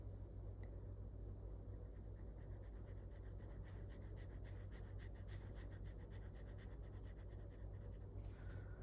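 A Sailor 1911 Standard fountain pen in black and gold with a broad nib writing on paper, a faint continuous scratchy rubbing of strokes over a steady low hum.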